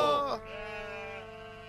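A sheep lets out one loud, close bleat that fades into a drawn-out, wavering tail, heard alone with no talking.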